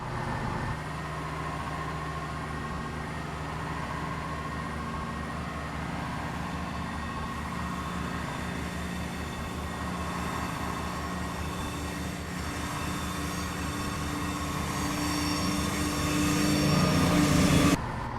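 A train pulling away in the Train Simulator 2020 game, a steady low rumble and hum of rail running with tonal drones, growing louder toward the end, with no voices.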